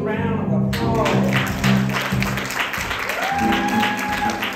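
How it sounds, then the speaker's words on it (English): A church congregation applauds its youth, the steady clapping spreading through the room over sustained low musical tones, with a voice briefly rising in the middle. "let's give our youth a big round of applause"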